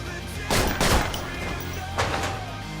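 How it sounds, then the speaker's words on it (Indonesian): A gunshot in a Crows Zero 2 yakuza film scene: two sharp broadband blasts close together near the start, then a third shot a moment later, each ringing out over a steady background bed. "Akhirnya Hideo ditembak Kawaishi dan dirawat di rumah sakit."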